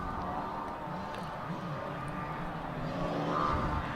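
A Ford Escort BDA rally car on a special stage of the New Zealand Rally Championship's Goldrush Rally Coromandel revs hard, its engine note rising and falling in quick sweeps, loud and continuous with no talk.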